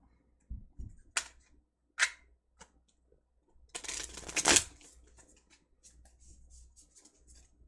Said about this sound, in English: let me do a shuffle real quick